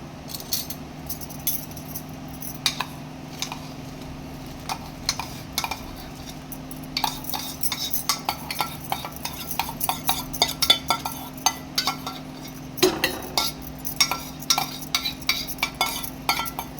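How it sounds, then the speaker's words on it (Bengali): Gobindobhog rice stirred into boiling milk for Bengali payesh, a spoon scraping and clinking steadily against a metal pot, close and continuous with a low steady hum underneath and no talk. "দুধটা ফুটে গেছে, আমি এতে এবার চালটা, গোবিন্দভোগ চালটা দিয়ে দেবো।"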